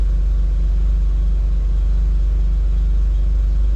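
Suzuki Cara kei car, suffering a failed head gasket after overheating, idling: a loud, steady low engine rumble with a fast even pulse, close by and alone with no talk.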